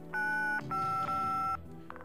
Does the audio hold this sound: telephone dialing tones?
yes